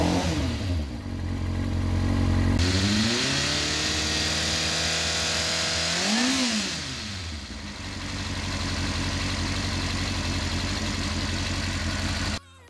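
A Kawasaki ZX6R with a second-hand Micron carbon exhaust idles and then revs close by, its engine pitch climbing and falling through two throttle blips before settling into a steady, throaty idle that stops abruptly at the end.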